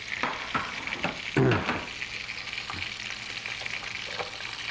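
Butter and a little oil sizzle and crackle steadily in a frying pan as it heats, a close continuous hiss with a brief louder spatter partway through.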